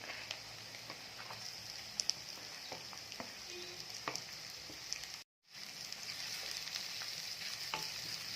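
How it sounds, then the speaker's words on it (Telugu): Onions, added after green chillies, fry in a pan for a garlic egg fry with a soft, continuous sizzle and scattered faint crackles, broken by a brief silent gap partway through. "లైట్గా బ్రౌన్ కలర్ వచ్చేంత వరకు బాగా వేపుకోవాలండి."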